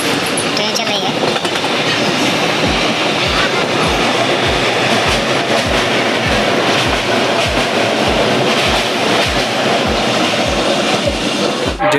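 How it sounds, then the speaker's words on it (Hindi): A passenger train running from Banaras toward Mumbai rolls along at speed, a steady loud rumble heard from on board with regular clickety-clack wheel beats on the rail joints throughout. "ट्रेन चल रही है, तेज़ी से चल रही है।"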